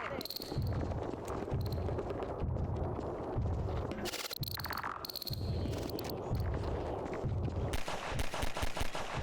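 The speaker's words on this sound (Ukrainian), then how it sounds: "чи з пістолета поки що постріляємо" Rapid bursts of pistol gunfire crack repeatedly in Half-Life 2, sharp and punchy, over a busy backdrop of game noise and chatter.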